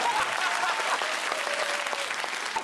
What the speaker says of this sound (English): Did you want a round of applause for that as well?